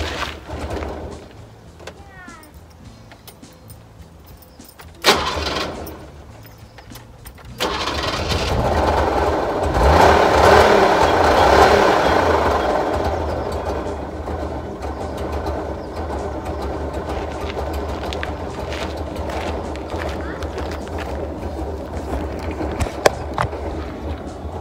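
An old Warszawa car, started after wintering for half a year, cranks with a few sharp bursts, then catches and runs at a loud, rough idle that settles into a steady rumble with occasional clicks nearby.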